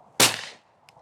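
A single sharp shotgun report at a driven pheasant shoot bursts out loudly and fades over about half a second, followed by a faint, brief click.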